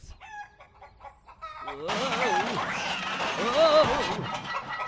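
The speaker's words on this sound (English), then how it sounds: "dang blasted chickens done knocked me out of my own barn" Chickens in a barn clucking and crowing loudly and close, a dense flurry of squawks that swells and holds, with a man's startled exclamation at the start.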